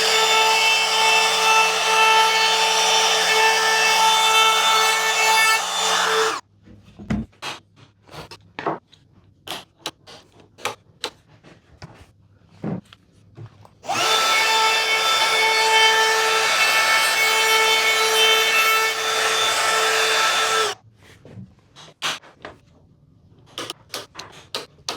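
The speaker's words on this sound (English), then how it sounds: "So I'm going to route the hinges in." A power router cuts hinge recesses into an old wooden door, running in two long steady bursts of loud whine separated by pauses filled with clicks, knocks and handling of the timber.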